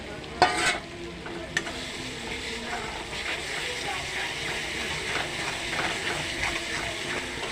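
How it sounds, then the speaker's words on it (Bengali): Spice masala with ginger paste fries in oil as it is stirred for a chicken and potato curry, giving a steady broadband sizzle with scraping stir strokes and a couple of sharp clinks near the start. "মশলাটাকে তেল দিয়ে মশলার কালারটাও খুব সুন্দর এসেছে এবার দিয়ে দেবো আদা বাটা"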